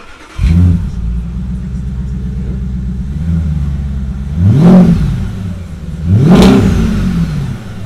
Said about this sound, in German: Soundcheck 2 ohne Auspuff.